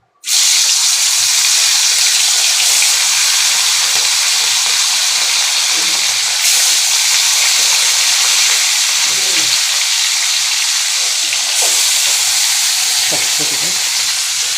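Fish dropped into hot oil erupts into a loud, dense sizzle that starts abruptly and holds steady as a bright crackling hiss for over ten seconds, with faint clinks of cookware.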